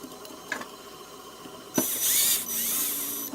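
A driver tightens M4 bolts into plastic while the mainboard of an RB3 build is installed, with a faint click, then a short whirring run of the driver, a brief pause, and a second run.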